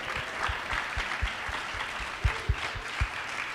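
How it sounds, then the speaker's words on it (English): A crowd applauds a panel at a music-industry student conference, a steady broadband wash of clapping with a few louder thumps standing out. "please give another round of applause to these amazing panelists."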